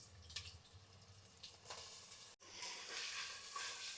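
Ginger garlic paste and chopped tomatoes frying in a pan for a prawn curry, a steady close sizzle with faint stirring scrapes and a brief break before the hiss swells louder.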